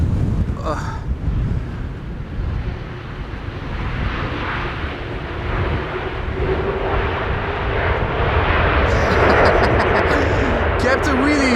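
A KLM Airbus A330 lands in strong wind at Amsterdam Schiphol, its jet engine roar building steadily under heavy wind buffeting on the microphone, with a brief voice near the start.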